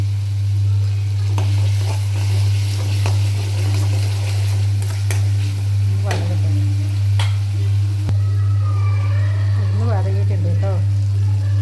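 Potato upperi frying in a pan with tomato, a steady broad sizzle running throughout with occasional stirring scrapes and clicks, close and fairly loud, with a strong low hum underneath.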